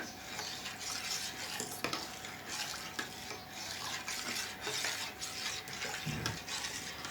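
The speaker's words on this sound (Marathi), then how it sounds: "आता आपण एकत्र मिक्स करून घेऊया." A spoon stirs solkadi ingredients together in a vessel, making a light continuous swishing and stirring with occasional clinks of metal against the container, close by and fairly quiet, with no voices.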